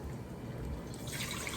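Water pours into a pot for pickle brine, a soft continuous trickle and splash under quiet kitchen background, brightening toward the end as the stream fills.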